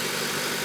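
Acura TSX engine idling after an oil change, a steady, even broadband hum that runs unbroken for under a second at moderate level, with no voices over it.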